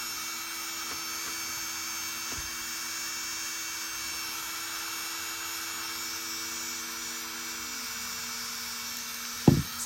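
A MelodySusie cordless nail drill runs at its highest speed, giving off a continuous thin high-pitched whine that stays steady throughout, with a brief clunk at the very end.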